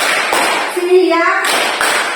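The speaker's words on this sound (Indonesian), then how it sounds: "Tepuk tangan dulu." Children clap together in a classroom, a dense burst of hand claps in steady bursts, fairly close and loud, with a brief voiced tone in the middle.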